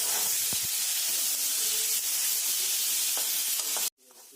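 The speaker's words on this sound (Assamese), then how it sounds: "ভাজি থাকিলে ধুনীয়াকৈ গাহৰিৰ পৰা তেলটো ওলাই যায়" Pork pieces fry in a pan in a little oil, rendering out their fat with a steady, close hiss and sizzle and a few stirring clinks, cutting off abruptly near the end.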